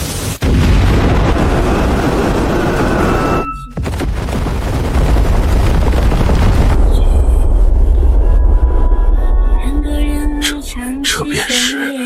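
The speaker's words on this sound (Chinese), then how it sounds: "大晋的第一尊红衣大炮终于问世了" A heavy red-coated cannon fires in a period battle scene, delivering a loud, booming blast that rolls on as a long, dense roar before tailing off into quieter rumble.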